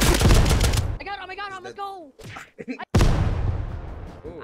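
Gunfire from the survival video game Unturned, a loud burst of rapid shots at the start and again near the end, with excited talk and shouting in between.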